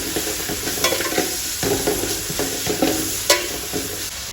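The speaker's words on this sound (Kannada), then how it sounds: "ದಾಲ್ಚಿನ್ನಿ ಲವಂಗ ಅದ್ರ ಜೊತೆಗೆ ಕರಿಮೆಣಸು ಕೂಡ ಇದೆ ಇದನ್ನ ಹಾಕಿ ಚೆನ್ನಾಗಿ ಮಿಶ್ರಣ ಮಾಡ್ತಾ ಇದ್ದೀನಿ" Whole cinnamon, cloves and black pepper fry in a pan for a chicken curry, with close, loud sizzling and repeated scraping stirs running throughout.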